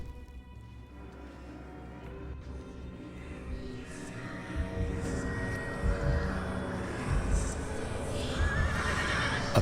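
A horse from the Abyssal Mount in the game Conan Exiles whinnies loudly and clops its hooves, with game ambience and a faint airplane-like drone underneath, the neighs growing stronger toward the end.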